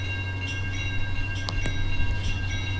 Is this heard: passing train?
yes